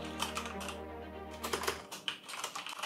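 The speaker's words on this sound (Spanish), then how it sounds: "Así es como se escuchan las teclas de este fenomenal teclado." Rapid bursts of keystrokes on a mechanical gaming keyboard with Cherry MX Speed switches, clicking and clattering close up in uneven runs over a steady background hum, with no voices.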